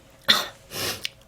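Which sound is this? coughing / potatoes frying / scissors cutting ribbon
coughing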